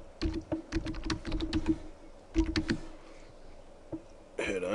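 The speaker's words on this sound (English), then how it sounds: "so you just type in your username." Rapid clattering keystrokes on a computer keyboard enter a username at a login screen, coming in quick bursts with short pauses, then a final sharper noise at the end.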